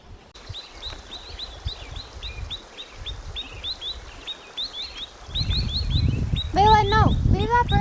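Small birds chirping and calling repeatedly outdoors at a campsite, bright short tweets throughout, with a louder burst of calls near the end over rising rustling and movement noise nearby.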